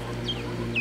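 Laying hens in an attic make two brief soft clucks over a low steady hum, close by and short.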